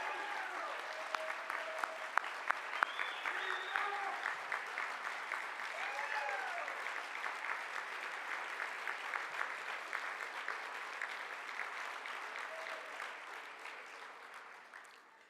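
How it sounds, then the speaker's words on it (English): A luncheon audience applauds steadily for about fifteen seconds, dense even clapping that holds level before tapering slightly near the end, with faint voices and a few whoops mixed in. "Can we give Gina Swoboda a round of applause"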